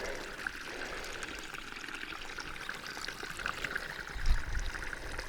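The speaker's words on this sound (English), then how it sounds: "There it is, coming right out of the pipe, just like they said." Water pouring out of a pipe into a green pool along the Continental Divide Trail near Rawlins: a steady, hissing stream of flowing water, with a brief low thump near the end.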